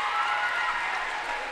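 A crowd from both sides at a girls' high school basketball game gives a player sustained applause, a dense even wash of clapping filling the gym.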